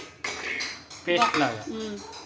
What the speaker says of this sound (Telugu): ఇప్పుడు ఇవి మిక్సీ జార్కి అయితే వేసుకుంటానండి